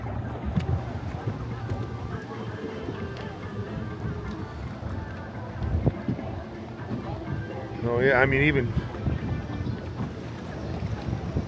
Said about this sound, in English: Boat's moving good.